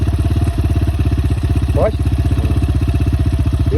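A Rottor 300cc enduro motorcycle engine runs close and loud with a pulsing, throbbing rhythm, rising briefly in a short rev midway. Brief speech sits over the engine.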